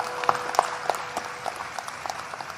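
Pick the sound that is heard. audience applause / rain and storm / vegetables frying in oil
audience applause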